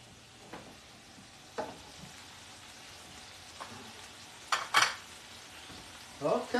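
Scallops sizzle in butter in a pan with a quiet, low crackle broken by a few sharp louder spits and pops spread irregularly through it.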